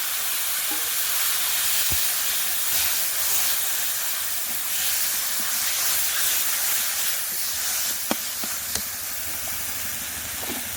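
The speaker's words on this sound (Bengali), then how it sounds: "এবার দিয়ে দেবো একটু পেঁয়াজ কুচি, রসুন কুচি আর আদা থেতো করে, সঙ্গে কাঁচা লঙ্কা চিরা দিয়ে দেবো" Chopped onion, garlic, crushed ginger and slit green chilies frying in hot oil, a steady loud hiss and sizzle throughout with a couple of faint sharp clicks near the end, no voices.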